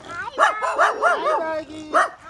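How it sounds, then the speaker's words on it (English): Dogs on a farm barking in a few sharp, close yips and bow-wows, a short burst of several barks followed by one more. "These dogs, once they hear your voice, they will start barking."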